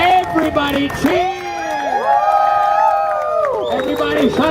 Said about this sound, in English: Everybody cheer!